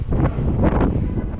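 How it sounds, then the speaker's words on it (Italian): Strong wind gusts outdoors in a hilltop village, a loud continuous roaring rush buffeting the microphone with surging peaks throughout. "c'è un vento della Madonna! Ci spinge all'indietro"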